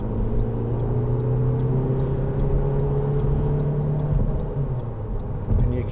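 A 2010 SEAT Leon 2.0 TD FR diesel hatchback pulling in third gear at about 40 mph onto a slip road, a loud steady low engine drone with road rumble from inside the cabin and faint ticking above it.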